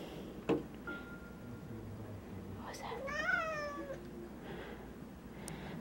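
A cat meows several times with rising and falling cries while stepping on a keyboard, with a few sharp tones and soft background noise around the calls.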